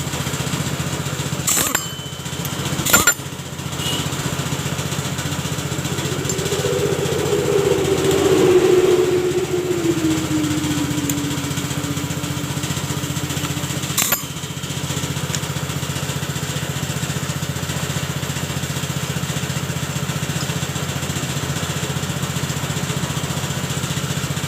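A Yamaha Mio scooter engine runs steadily throughout at moderate loudness, with a brief rise in revs near the middle and a few sharp clicks early on and around the midpoint.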